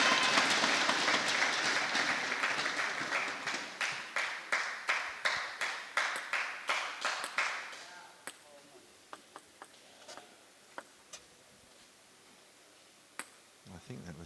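Spectators at a team table tennis fixture clap in a steady rhythmic run that thins out to a few scattered, isolated claps trailing off into quiet, with faint talk nearby.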